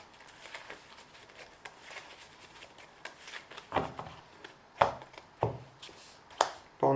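A deck of playing cards is shuffled during a tabletop card game, a run of soft papery riffles and taps growing into several sharper slaps, close and fairly quiet.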